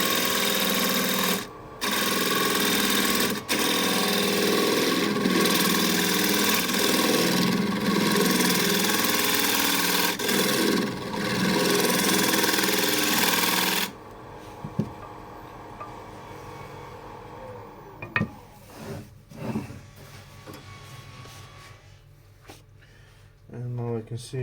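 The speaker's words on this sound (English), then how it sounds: "Just bring these down with the scraper a bit." A scraper cuts a chestnut bowl spinning on a wood lathe, giving a loud, continuous whirring drone for about fourteen seconds before it stops abruptly, followed by quieter scattered knocks and scrapes.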